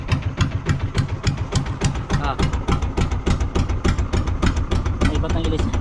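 A small wooden bangka's boat engine, just started, chugs in fast, even knocking pulses, loud and close, with a rattling mechanical tone throughout.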